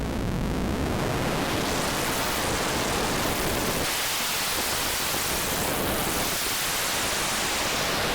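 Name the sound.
Shakmat Banshee Reach synth module, digital white noise modulation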